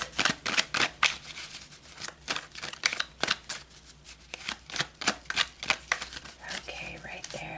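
Tarot cards are shuffled and handled for a reading, making a quick run of crisp riffling and slapping bursts that sound close and fairly loud.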